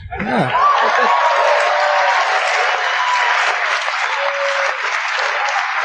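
A comedy club audience breaks into loud applause mixed with laughter and chuckles after a stand-up punchline. A brief shout opens it, then dense clapping with scattered laughs sustains at full volume throughout.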